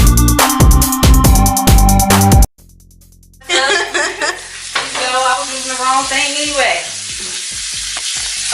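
Rice Krispy treat mixture being stirred with a butter spatula in a skillet, sticky scraping and stirring strokes, loud and close, with a brief pause before the stirring resumes in a steady rhythm.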